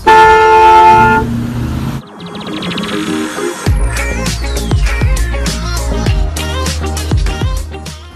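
A car horn gives one long, loud, steady blast. Upbeat music follows right after it.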